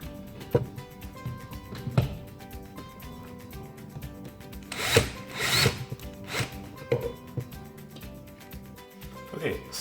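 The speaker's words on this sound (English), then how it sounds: "So we just tighten those up." Screws driven with a tool into an outlet wall box, heard as close, uneven bursts of creaking, scraping and rubbing at irregular intervals, with a person talking over them.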